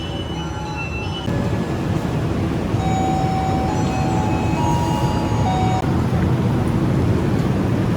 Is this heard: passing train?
yes